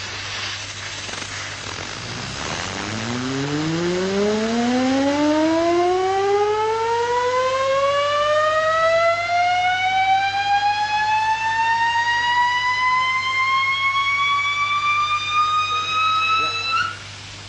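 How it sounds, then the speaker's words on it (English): A heavy, out-of-balance gyroscope spins up, its whine rising steadily in pitch with layered overtones over about fifteen seconds, loud and close, then cutting off abruptly near the end. "I'm going to spin it up again and then turn it upside down."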